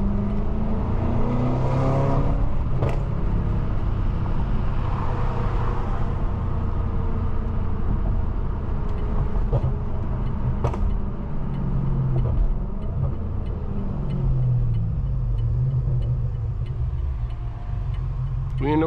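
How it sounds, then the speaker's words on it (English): A BMW M550i with over 700 hp rumbles steadily while driving, its exhaust note swelling with occasional revs, loud and close throughout. "Exhaust is going to sound so much better."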